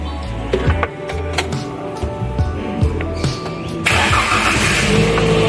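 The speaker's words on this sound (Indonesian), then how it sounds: "Lalu kita menyalakan engine." A Daihatsu Gran Max 1.5 engine cranks and catches in a workshop during a tune-up, its mid-pitched idle settling with a brief rev, near and steady with some clatter.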